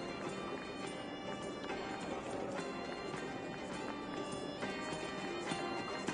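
Horse hooves pound in a fast gallop during Assassin's Creed Valhalla gameplay, blended under steady background music, continuous and fairly loud for several seconds.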